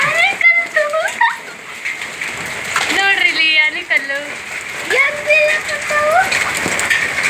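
Heavy rain with hail hisses steadily with a dense patter of hard drops, while several voices talk and exclaim over it.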